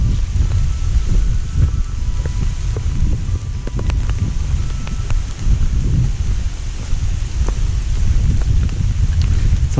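Steady rain and gusting wind on a rocky, root-covered hiking trail in the Cheaha area of the Pinhoti Trail, a continuous dense hiss with low rumbling wind buffeting, fairly loud and without speech.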